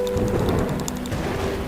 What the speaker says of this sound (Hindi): ठंडी बरसात में खड़े रहोगे तो बीमार पड़ जाओगे।